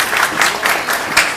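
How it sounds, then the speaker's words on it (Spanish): Audience applause for motivational speaker Nick Vujicic at an event in Chiclayo, Peru, a steady, dense wash of clapping with slight swells, close and loud throughout. "¡Fuertes aplausos!"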